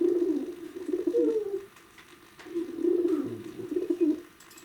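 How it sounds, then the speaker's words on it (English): Homing pigeons coo in low, soft, rolling phrases, two bursts separated by a brief pause, close and clear with faint background noise. "They're called homing pigeons, because they fly home from wherever they happen to be."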